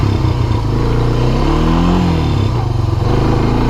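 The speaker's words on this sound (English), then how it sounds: "hold up on the shifter and gun it a couple of times" A Honda TRX 300 4x4 ATV engine is gunned a couple of times while in gear with a sticky clutch, a loud, close rumble rising and falling in pitch.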